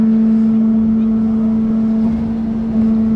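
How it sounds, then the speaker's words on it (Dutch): A HUSS motor drives the Flying Orca (Flying Willy) amusement ride at Bobbejaanland, a loud, steady mechanical drone with a strong constant hum, heard up close and continuous without a break. "luister maar naar de motor die hem aandraait"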